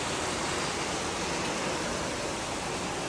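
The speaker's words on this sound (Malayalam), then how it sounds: "അന്ന് രാത്രി പെയ്ത മഴയാണ് കാണുന്നത് നല്ല മഴയാണ്" Dense, steady rainfall hisses evenly throughout, a heavy night-time downpour in Puttaparthi with no breaks and no voices.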